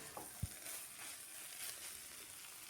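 Ridge gourd fried with sugar and grated coconut, stirred in a pan: a soft, low sizzle with faint scraping and one brief knock, quiet and close with no talk.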